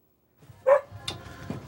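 An English setter dog at an RV show lets out a single sharp bark, followed by a few softer yips and rustles in an otherwise quiet indoor space.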